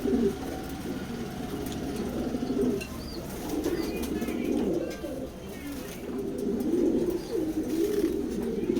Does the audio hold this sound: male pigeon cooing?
yes